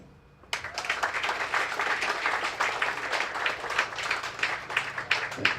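Audience at a youth leadership awards breakfast bursts into applause after a short quiet lead-in, a dense, steady wash of many hands clapping close by and filling the room, with no talk over it.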